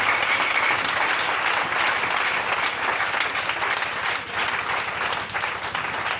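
A church congregation applauds at an evangelistic Friday sermon, a dense sustained burst of clapping from many hands that fills the room for several seconds at a strong, even level.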